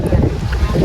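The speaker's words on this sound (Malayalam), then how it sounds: "നല്ല കാറ്റുണ്ട്." Steady wind roars across the microphone in a constant buffeting rush, with a low surf-like rumble underneath, on the beach at Chavakkad, Kerala.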